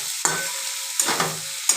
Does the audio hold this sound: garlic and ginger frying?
yes